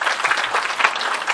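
An audience at a public hearing on Cheongsong apple distribution applauds, a dense, continuous clapping that holds steady for the brief moment, close and fairly loud.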